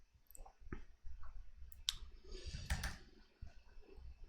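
A mouse click in the Godot game engine editor, a sharp single tick near the middle of an otherwise quiet room with faint background rustle and a few softer clicks around it.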